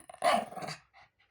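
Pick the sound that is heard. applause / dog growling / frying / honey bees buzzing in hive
dog growling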